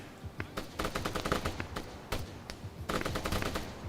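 Rapid bursts of gunfire from AI soldiers in the video game ArmA 3, clustered volleys and single shots cracking repeatedly at moderate distance, with faint voice underneath.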